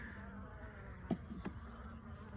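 Honeybees hum steadily in an opened beehive, a faint continuous buzz with a couple of soft knocks nearby.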